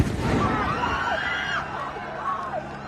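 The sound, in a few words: live firework exploding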